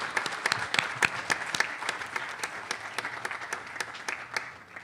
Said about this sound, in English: So give yourselves an applause for that.